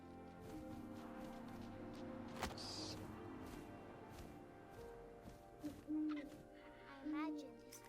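An owl hoots in the video game What Remains of Edith Finch, soft and moderately distant, layered over ambient game sounds, wind-like noise and a few brief chirping tones.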